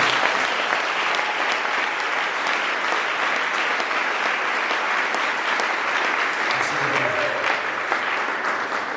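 Sustained, dense applause from a church congregation fills the space steadily for the whole stretch at an even, loud level, with no break or fade.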